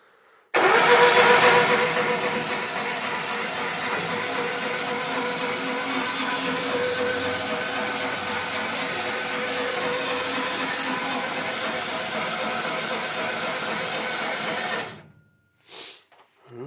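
A VAZ 21011 car engine fitted to a homemade tractor starts with a loud roar and settles into a steady running drone for about fourteen seconds. It is close and constant, then cuts out.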